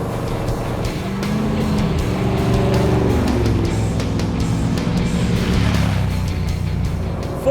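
A Holden Torana powered by a 468 cubic inch big block Chevy V8 rated over 700 horsepower, cruising on a hilly road, its engine a steady, loud, deep drone heard from inside the car with no voices.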